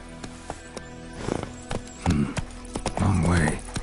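Hooves of Geralt's horse Roach in The Witcher 3, a steady clip-clop of walking steps at close range, with brief snorting and a voice murmuring partway through.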